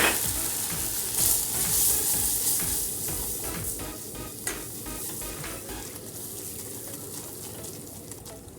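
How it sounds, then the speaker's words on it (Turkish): Butter and flour sizzle and fry in a pan for a béchamel sauce, a steady crackling hiss with occasional stirring scrapes, moderately quiet and close. "beşamel sosumuz için bir yemek kaşığı tereyağını aldık. Unumuzu ekledik."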